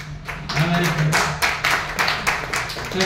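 An audience claps during a talk on agro-tourism in Karnataka, a brief ragged patter of hand claps from a small crowd in a hall, moderately loud, with a voice speaking over it.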